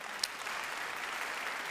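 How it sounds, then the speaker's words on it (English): An auditorium audience claps for performers at a theatre event, a steady wash of applause sustained across the short moment. "If you could give them a round of applause."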